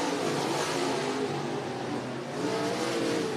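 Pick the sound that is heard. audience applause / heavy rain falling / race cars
race cars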